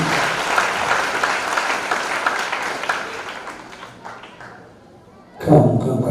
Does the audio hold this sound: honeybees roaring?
no